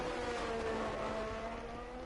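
Two Ferrari cars in the F1 22 video game race toward the finish line, a brief, faint, steady engine whine with a slight rising pitch.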